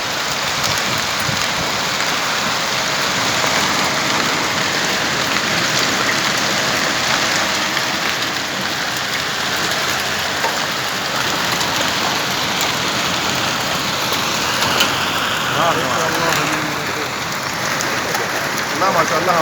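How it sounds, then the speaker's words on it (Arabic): Heavy rain pours down in Ha'il, Saudi Arabia, a dense, steady hiss of drops hitting surfaces that stays loud and unbroken for the whole stretch, with faint background sounds underneath. "امطار خير وبركه وثلج زياده"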